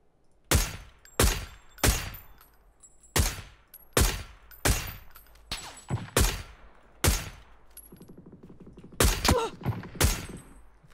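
Gunfire in the battle royale game PUBG during an end circle on the Paramo map: about a dozen sharp, loud shots in uneven bursts, some close together, with no talk over them.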